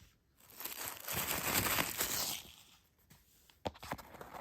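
A package of glass beads being opened with scissors: close crinkling and tearing of wrapping that swells into a dense rustle, then gives way to a few sharp snips and rattles.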